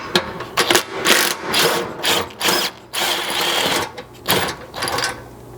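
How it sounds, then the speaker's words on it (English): A ratchet with a 13 mm socket backing out the bumper mounting bolts on a Chevy Colorado Z71 / Trail Boss: rapid clicking ratchet bursts in several short runs separated by pauses, close and fairly loud. "you'll need your 13 again to reach back in here and remove the 2 top mounting bolts for this"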